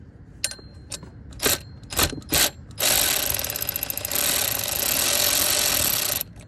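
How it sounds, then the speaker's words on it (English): An electric ratchet loosening the water pump pulley bolts on a BMW E46, with a few short bursts of clicking followed by a long continuous buzzing whir of the tool spinning up close by. "So we're gonna take our electric ratchet, but you guys can use normal hand tools if you need to."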